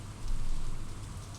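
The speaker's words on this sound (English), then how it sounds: "watching the curtains of rain whisper above a silent lake" Steady rain patters softly across a lake in Stardew Valley, a faint, even hiss with no voices over it.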